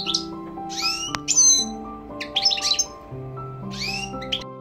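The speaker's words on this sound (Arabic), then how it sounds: "هذا الحسون عند فصله عن الأنثى شاهد يبحث عنها ويغرد" A male goldfinch, kept as a breeding bird and separated from its hen, sings loudly and close by in repeated bright phrases. Faint steady tones run underneath throughout.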